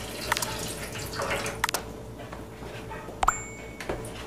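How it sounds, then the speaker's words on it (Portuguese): Water drains off rinsed beef in a kitchen sink with sparse drips and trickles, a few bright clinks of a pot or utensil, and a faint running-water wash underneath, close by. "Vamos retirar a água, toda a água."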